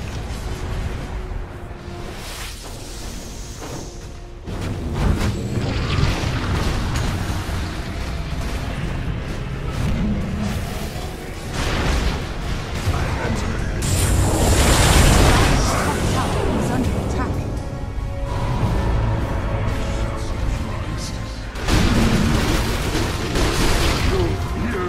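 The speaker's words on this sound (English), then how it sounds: "Dire's top tower is under attack." Towers under attack in Dota 2, a dense, continuous mix of booms, bursts and clashing game effects with an announcer-style voice speaking over it.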